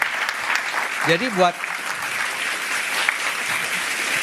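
Studio audience applause on an Indonesian talk show, a steady broad wash of clapping running the whole time, with a brief spoken word cutting in near the middle.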